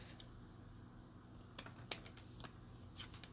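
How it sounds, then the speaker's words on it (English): A few sharp, quiet snips of scissors trimming paper, spaced out over a faint steady background hum. "take your scissors and trim that part off"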